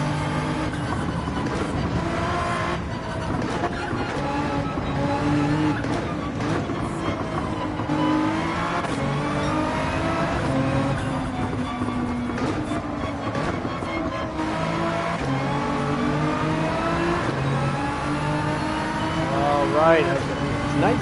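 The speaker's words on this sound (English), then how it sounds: "Shift up into second and get onto the throttle once we get to the marker on" Race car engine in Gran Turismo 7 drones steadily and climbs in pitch through gear changes, loud and continuous throughout, with a person talking over it.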